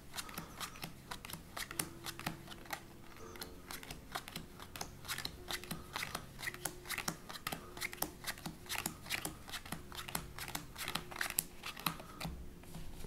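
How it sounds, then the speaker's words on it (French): Playing cards are dealt one by one into piles on a table for a magic trick, making a steady stream of crisp close snaps and flicks throughout, with faint background hum. "il distribue les cartes comme il le désire"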